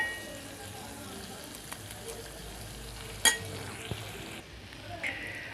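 Corn and beans tipped into a pan of frying onions, a steady soft sizzle throughout with a sharp clatter and spill of kernels near the middle, then quieter frying.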